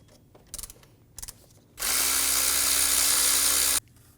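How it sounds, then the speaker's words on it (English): A power tool spins a 13mm socket to remove the idler pulley bolt on a 2019-2025 Ram 2500 6.7L L6, with a few ratcheting clicks and then one loud, steady two-second whir up close. "Using a 13mm socket, we're going to remove the bolt for our idler pulley."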